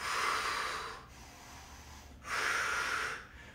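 Two forceful breathy exhales during a push-up and side plank workout, each lasting about a second, separated by a quieter pause, close and with no talking.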